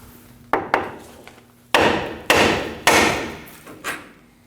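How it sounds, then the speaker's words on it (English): A hammer strikes the end of a front steering knuckle on a 2009-2014 Ford F-150 in about seven sharp, loud metallic blows, spaced unevenly with brief ringing decay, close to the listener. "we'll go ahead and strike the end of the knuckle with a hammer"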